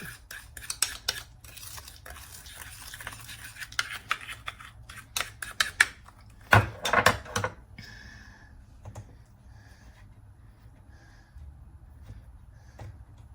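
Pork is stirred in a pan with a metal utensil, giving close, irregular scrapes and clinks in quick bursts, then quieter gaps with a faint sizzle underneath.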